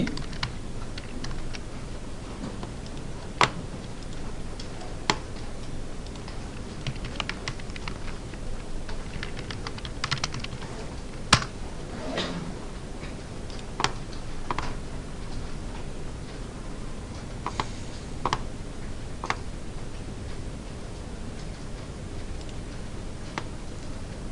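Code being typed on a computer keyboard during a web design lesson: steady, close, soft key clicks and taps with occasional sharper keystrokes, continuing without pause against a faint background hum.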